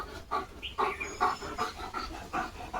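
A German Shepherd pants quickly and rhythmically nearby after barking, short breathy huffs repeating steadily at a moderate volume with nothing else around.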